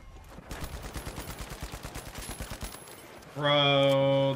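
Rapid automatic gunfire rattles in the video game The Finals, a steady burst of evenly spaced shots lasting a few seconds, followed by a loud sustained tonal alarm-like sound.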